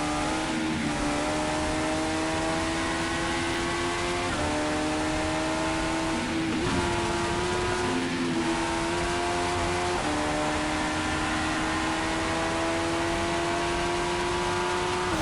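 A Formula 1 race car in a mobile racing game at the Saudi Arabia Grand Prix screams at full speed, its steady high engine whine dipping briefly at a few quick gear changes before climbing again, loud and continuous with no talk.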